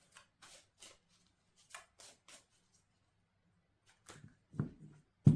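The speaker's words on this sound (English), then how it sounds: "I'm not the best shuffler." Tarot cards being shuffled by hand, in quiet, near, dry riffling bursts spaced irregularly, growing into louder, fuller shuffles and a soft thump at the end.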